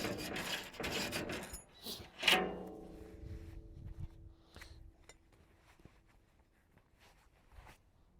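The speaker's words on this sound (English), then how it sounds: "So you take the file, give it a couple of strokes." Hand file sharpening a sawmill saw tooth on a Frick sawmill, with a few close rasping strokes early on followed by a ringing metallic tone that fades, then light scattered handling noises, no talk.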